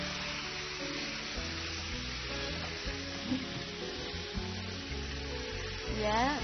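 Eel sizzles in a wok with golden fried garlic, a continuous moderate crackle running under a faint background voice and some stirring near the end.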